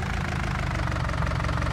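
A tractor engine idles steadily in Farming Simulator 19, a close, loud, continuous low rumble with a knocking diesel pulse and no talk over it.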